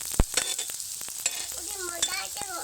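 A rice and potato snack fries in hot oil, giving a steady crackling sizzle with scattered sharp pops and stirring clinks throughout.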